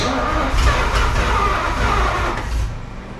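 A 1950 Pontiac Chieftain engine being revived, revving loud and close in a steady, rough roar that rises slightly mid-way and then drops off toward the end.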